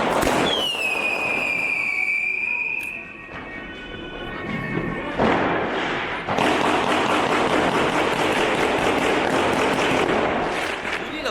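German fireworks go off loud and close: a descending whistle first, then a dense, continuous barrage of crackling bursts and pops filling the rest of the clip.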